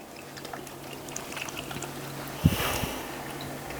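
Water is poured into a MrBeast Lab Swarms toy container, a soft, brief pour and splash heard faintly, with quiet room noise around it.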